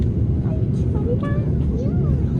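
A passenger airplane takes off on a first flight, its engines making a steady low roar throughout, with faint voices and brief squeaks over the rumble inside the cabin.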